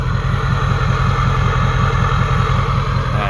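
A low, rhythmic diesel idle from a 2004 Ford Excursion 6.0L exhaust burbles steadily at close range, a chugging exhaust pulse with no voices.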